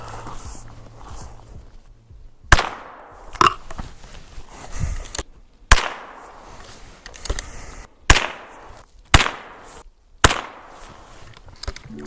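Gunfire aimed at old-style aluminum cans outdoors during a dual-sport motorcycle camping trip, about six sharp single shots spaced a second or two apart, loud and close with brief echoing decay.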